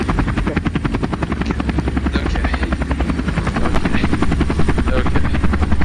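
Helicopter in the BoneLab video game coming down, its rotor chopping in a loud, steady, rapid rhythm that fills the whole stretch with no talk over it.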